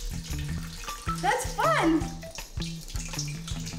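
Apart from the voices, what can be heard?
water spilling out of containers in science experiment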